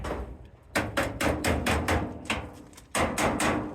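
Repeated sharp metallic hammer strikes driving a pin into rusty metal at a fairly steady rhythm, a short pause, then more blows, loud and close.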